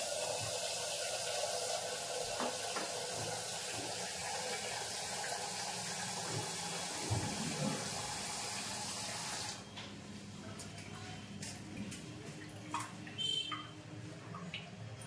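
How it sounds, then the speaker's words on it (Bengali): Water running from a kitchen tap into a pan, a steady close hiss that stops partway through, leaving quieter kitchen handling sounds. "আর এই জলটা তোমরা জানো আমি রেখে দিই, এই যে কড়াতে রেখে দিচ্ছি"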